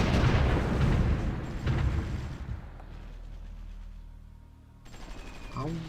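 Artillery fire in the strategy game Supreme Ruler Ultimate, heavy booming barrages rolling loudly at first, then fading into a low rumble before a fresh burst of battle noise returns near the end.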